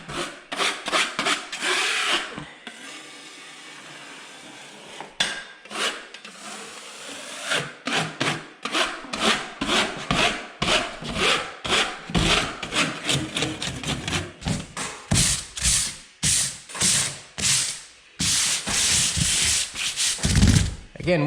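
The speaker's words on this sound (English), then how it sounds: "Again, with the sanding," Repeated scraping strokes of sanding joint compound across a textured wall, quick rhythmic rubbing bursts close by, with a short quieter pause partway through.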